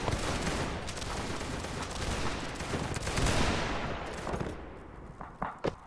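Dense musket volley fire rolls on in a Mount and Blade Warband Napoleonic battle mod, a continuous crackle of many overlapping shots with a few distinct sharp reports near the end.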